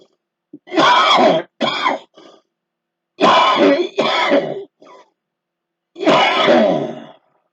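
Several loud, close coughs and throat-clearing bursts come in three rough groups, separated by short silences.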